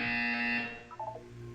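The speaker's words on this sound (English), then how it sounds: "You will hear a buzzer." A loud, sustained electronic buzzer tone sounds in the video game Portal 2, holding steady before fading into a short, wavering electronic chirp.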